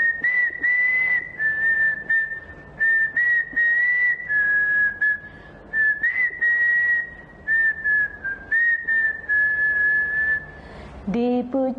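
A person whistles a bird-like song imitating a sooty-headed bulbul, a steady high melodic line broken into short phrases, close and loud, with a brief voiced sound at the very end.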